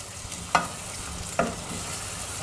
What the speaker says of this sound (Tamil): அது கூடயே பச்சை மிளகாயும் போடுறேங்க, சீரகம் போட்டுக்கிறேன். நல்லா வதக்கணுங்க.